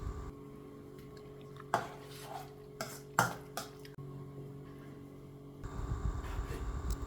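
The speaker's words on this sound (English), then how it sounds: "I'm adding some chopped tomato, stir also to combine." A spoon scrapes and clinks in a bowl while egg and chopped tomato are mixed for a sandwich filling, with several sharp taps and stirs in the middle and a soft, wetter stirring burst near the end.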